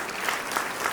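An audience claps steadily at a community gathering, a dense, continuous wash of applause at moderate loudness with small surges in intensity.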